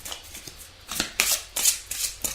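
Oracle cards are shuffled and drawn by hand in a few quick, close, papery riffles and slaps separated by short pauses, with no talking.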